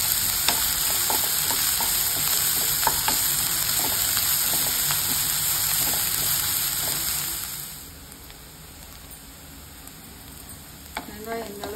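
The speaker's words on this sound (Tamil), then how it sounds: "வெங்காயத்தை போட்டு நல்லா வளர்க்கணும்." Onions frying in hot oil with mustard seeds and cumin for a village-style prawn curry, a loud steady sizzle with scraping stirs that drops to a quieter simmer partway through, with occasional clinks near the end.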